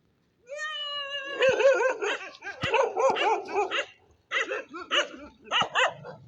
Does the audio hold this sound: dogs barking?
yes